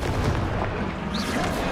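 A Confringo blasting curse from Hogwarts Legacy erupts in a dense, loud, rumbling burst that fills the whole short moment, close and with no one talking.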